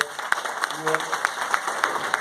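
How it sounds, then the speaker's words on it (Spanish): An audience at a renewable energy presentation in Argentina gives another round of applause, a moderate bed of clapping with regular prominent claps and a faint voice briefly underneath. "Otro aplauso"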